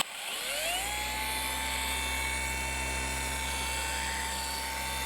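A dual-action car polisher fitted with a jeweling pad spins up and settles into a steady high whine at 4,000 RPM, loud and continuous with no talk.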